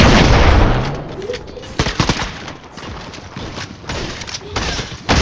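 Rapid bursts of pistol gunfire from a lock-on pistol in a first-person shooter match, sharp cracks spread through the clip over loud background game noise, with a few gaps between volleys.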